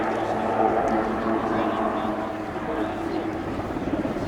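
A Cougar helicopter, a Puma-based type, at the Royal International Air Tattoo air show, with a broad steady rotor and engine roar filling the scene at close-to-moderate range and holding loud throughout.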